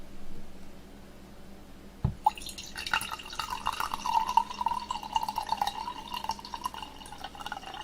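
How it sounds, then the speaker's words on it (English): Water pours from a bottle into a mug after a sharp knock, a close trickling fill with a rising gurgling tone that runs for several seconds. "I'm gonna pour myself some water"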